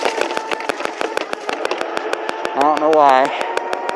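An engine runs at full throttle through grass, giving a steady, rapid, mechanical pulsing at close range while someone talks over it.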